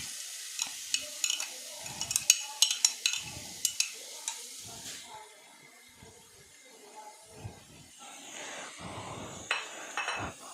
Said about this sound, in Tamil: ஸோ பட்டர் நல்லா மெல்ட் ஆகிடுச்சு. மெல்ட் ஆன உடனே இந்த ஆனியன் ஃபுல்லாக ஆட் பண்ணிக்கலாம்.